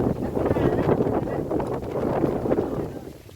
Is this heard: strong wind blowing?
yes